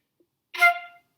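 One short, detached and strongly accented marcato note from an articulation exercise, a single clipped attack that decays quickly out of silence.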